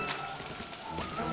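Steady rain patters in the rainy city of Super Mario Odyssey, a dense, even wash of drops at a moderate level with no pauses and no talking.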